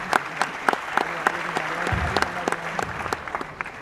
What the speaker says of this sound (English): yeah, absolutely, round of applause.